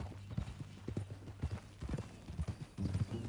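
Horse hooves clip-clop in a quick, steady rhythm in the video game Red Dead Redemption 2, close and clear, with faint background ambience and no talking.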